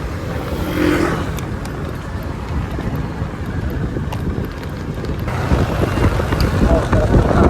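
Wind rushes past during a road trip on a winding road near Tagaytay toward Talisay, Batangas. It makes a steady, loud buffeting roar over the microphone alongside low vehicle rumble, and a voice speaks over it.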